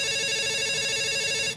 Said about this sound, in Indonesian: Ada suara telepon